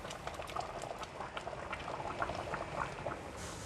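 Water bubbling and boiling in a pan beneath roasting pork belly for siew yoke, a close, steady crackling patter of small bursts with no talking.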